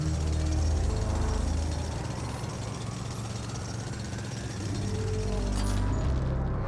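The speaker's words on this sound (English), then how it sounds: "Special equipment is used to drill through rocks." Rock-drilling equipment in The Alters grinds and rattles continuously and loudly for several seconds, a dense mechanical roar with a slight dip in the middle before picking back up.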